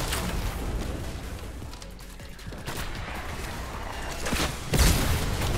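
Rocket launcher explosions in Fortnite, a dense, noisy barrage of booms and blasts running throughout, with a heavier burst near the end.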